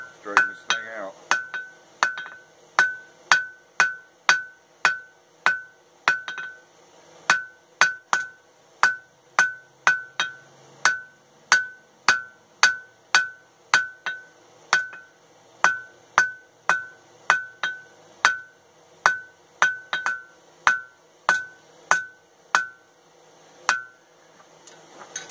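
A blacksmith hammers a forged fishtail hook on an anvil in a long, steady run of sharp ringing blows, each a crisp metallic clink at a regular pace, heard up close.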